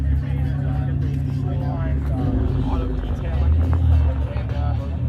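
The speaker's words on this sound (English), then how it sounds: "That's that SRT4 cammed up, dude. It's sick." A Dodge SRT4 with an aftermarket cam idles at a night car meet, its deep, lumpy rumble steady and close while people talk over it.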